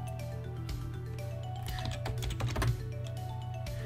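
Someone types the command exit on a computer keyboard, a short burst of soft key taps over a steady low electrical hum, with no voices.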